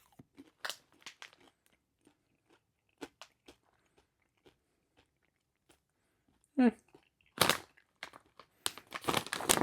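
White cheddar protein popcorn crunched in several sharp, close bites, scattered between pauses and growing busier toward the end, with chewing and crinkling in between.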